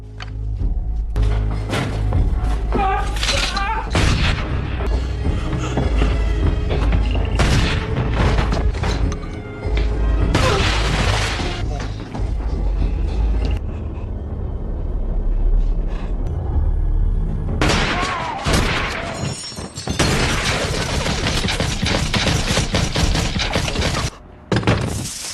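Armed men shooting down a family in a film scene: loud, repeated bursts of gunfire and crashing impacts, mixed with dramatic score and brief shouting across a long, intense stretch.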